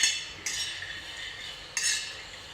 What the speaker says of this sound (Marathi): तुम्ही पाहू शकता याचा चट आवाज येतो ना, म्हणजे आपला शेंगदाणा भाजतोय